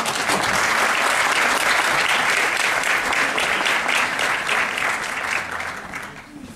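An audience at a Mesnevi gathering in Beyoğlu, Istanbul breaks into loud, dense applause that holds strong for several seconds, then thins and fades toward the end.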